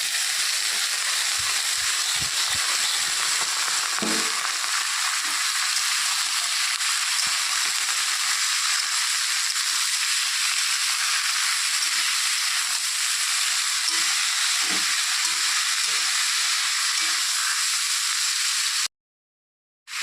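Vegetables frying in a pan with already browned onions give a steady loud sizzle and hiss, broken by a few soft stirring knocks, before it cuts off near the end.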